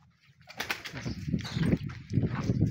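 A racing pigeon in a loft during a summer race, close soft cooing and wing flutters in a short burst, with no talking.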